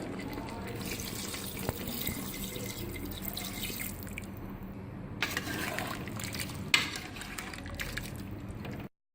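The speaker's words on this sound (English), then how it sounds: "I'm gonna add 1 glass of water to it" Water poured from a glass into a pot of mutton achar gosht in a pressure cooker, a steady trickling splash running for several seconds with a few louder drips, close by and without talk.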